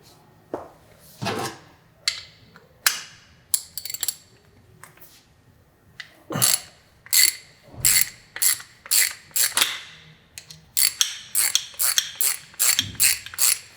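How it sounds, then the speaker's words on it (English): Ratchet clicking while a T40 bolt is undone to free the brake pedal from the footrest of a BMW S1000RR sportbike, with bursts of rapid close metallic ratcheting separated by brief pauses and handling clatter. "We also need to unbolt the brake pedal from the footrest itself."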